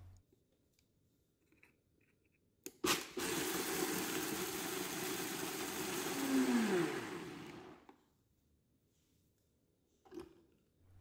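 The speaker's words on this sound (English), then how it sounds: "I'm going to blend this on high for about a minute" A countertop blender runs on high, blending strawberries, soaked rice, soaking liquid and a cinnamon stick, a loud steady whir lasting about five seconds that rises slightly then cuts off, with quiet clicks before and after.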